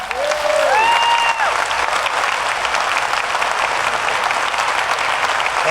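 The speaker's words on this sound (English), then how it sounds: "I'd like to have you give a warm welcome to General Alexander." A conference audience bursts into sustained, loud applause to welcome a speaker to the stage, with a few whoops and cheers near the start.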